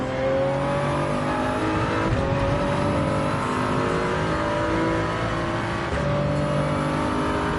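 A pack of race cars roaring around the Red Bull Ring in Gran Turismo 7, engines droning loud and close with rising and falling pitch as gears shift, continuous and without talk.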